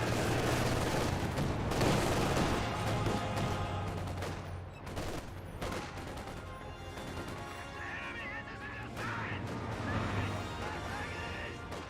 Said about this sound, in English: Good suppression there by the MG42.